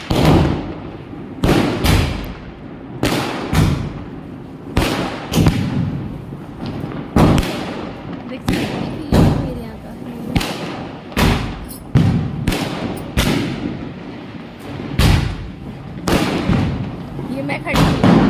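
Diwali firecrackers go off outside a decorated home in a lit-up lane, a steady run of loud, sharp bangs and thuds, some close and some farther off, while someone talks over them.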